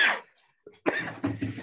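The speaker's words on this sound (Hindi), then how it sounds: "खांसी का मौसम है। सारे खांसी हो गए।" A person coughs: a harsh burst at the start, then after a short gap a few rough, close coughs in quick succession, heard alone without other sounds.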